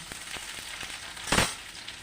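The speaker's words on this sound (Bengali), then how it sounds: "পেঁয়াজটা লাল হলে মাংসটা ফেলে" Native chicken meat is dropped into a pan of browned onions and bursts into a loud sizzle midway, after a quieter steady frying hiss with a few faint clicks.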